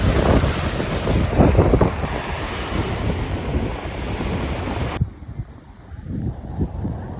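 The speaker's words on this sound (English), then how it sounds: "There's the ocean." Ocean surf breaks at a beach on a windy evening, a continuous wash of waves heavily buffeted by wind noise on the microphone, loud at first and then easing after a sudden drop partway through.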